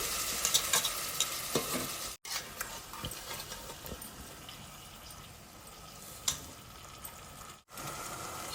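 Marinated chicken with fried onion pieces sizzling in oil on a stove at high flame, a quiet steady crackle broken by irregular stirring scrapes and small pops, heard close up with no talking.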